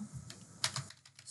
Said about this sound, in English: I'm going to type in a comma